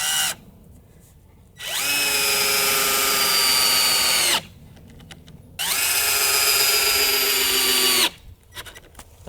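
Power drill driving 2.5 inch deck screws while building a wooden three-tier plant stand: two long, loud, steady whirring bursts separated by brief pauses, close to the listener with no talking.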